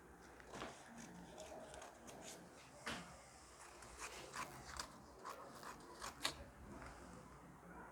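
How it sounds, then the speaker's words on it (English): Scissors snipping through fabric while cutting out a double-breasted blazer dress pattern, a faint series of soft irregular cuts and rustles with no talk. "So I'll be cutting this out."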